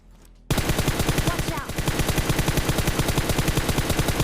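Rapid automatic gunfire in the mobile battle-royale game PUBG Mobile bursts in abruptly and rattles on as a loud, dense, continuous stream of shots to the end, with no talk.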